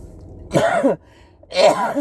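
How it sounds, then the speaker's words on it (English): Two short, explosive bursts from a nearby person, about a second apart, each a forceful sneeze-like exhalation with quiet room noise between. "I think I'm going to sneeze"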